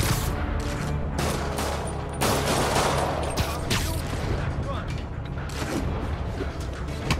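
Rockets and explosions fire repeatedly in Spider-Man on PS4, a dense barrage of booms, whooshes and mechanical clatter that stays loud and busy throughout.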